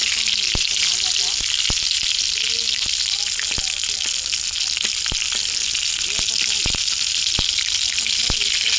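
Prawn chops fry in hot oil with a loud, continuous sizzle and crackle, punctuated by sharp pops and spatters throughout, with faint speech in the background.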